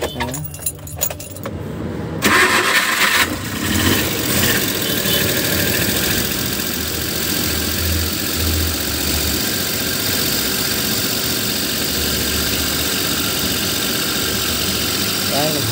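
A Suzuki Multicab with a hard-starting fault, just after a valve adjustment, cranks briefly over jangling keys, then catches and settles into a steady, loud, slightly rough idle close by.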